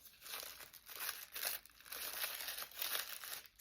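Paper for a handmade junk-journal flower being folded and pulled apart: close, soft crinkling and rustling in repeated bursts with brief pauses between.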